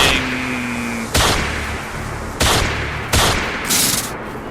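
Gunfire in the Fallout Equestria video game: several loud, sharp shots spaced about a second apart over a steady background hum, each with a short ringing tail.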